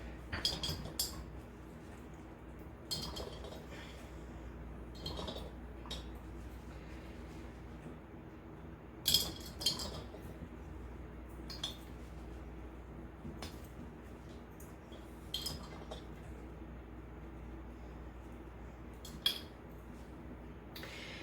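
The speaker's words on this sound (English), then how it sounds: "And then, of course, dropping it in your jars." Bruised garlic pieces drop one by one into glass jars, making sharp clinks and taps spaced every couple of seconds over a steady low hum in a kitchen while fire cider tonic is being made.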